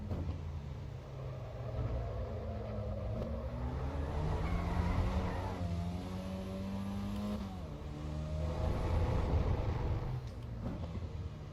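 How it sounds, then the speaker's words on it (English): An Alfa Romeo race car in Assetto Corsa EVO accelerates with its turbo spooling, the engine pitch climbing and dropping through gear changes at moderate volume, no one talking over it. "you can hear the turbo spooling."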